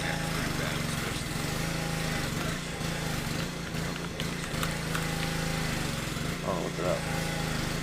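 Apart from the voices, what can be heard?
lawn mower running nearby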